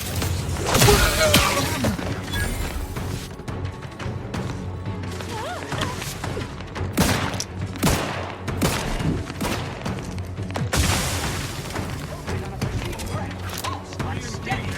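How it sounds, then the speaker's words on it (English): Grenade blasts and gunfire from combat in the video game The Outer Worlds 2, loud booms and crashing impacts repeating over a dense, continuous game soundtrack throughout. "Grenade on its predetermined trajectory."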